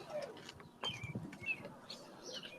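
Birds chirp and call outdoors, soft and somewhat distant, with brief tweets and a dove-like coo scattered over faint background noise.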